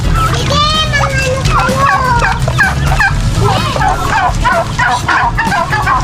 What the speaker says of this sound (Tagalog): ito po yung limang manok na native na binili ko